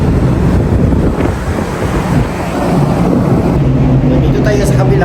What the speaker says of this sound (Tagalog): grabe yung lakas ng hangin, lakas ng alon.